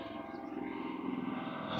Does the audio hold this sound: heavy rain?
no